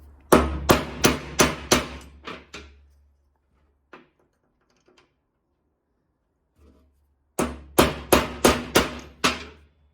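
Halfshaft parts are hammered into place in a series of loud, evenly spaced metallic blows, a burst of about seven strikes, a quiet gap with a few faint knocks, then another rapid run of strikes.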